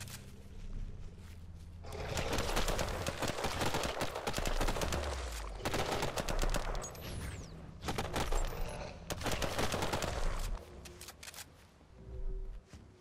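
Rapid assault rifle fire in the Swarm Survivor video game, dense crackling bursts that run almost continuously for long stretches with brief pauses, loud and close, with no talking over it.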